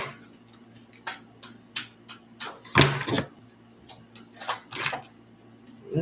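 Tarot cards are shuffled by hand in a quiet room, a series of short, crisp riffling snaps and flicks spaced irregularly, close and fairly soft, with one louder burst in the middle.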